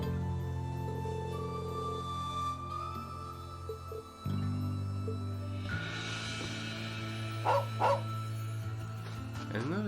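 A dog barks a few times in Trails of Cold Steel II, short yips that rise briefly over steady game music and ambient tones.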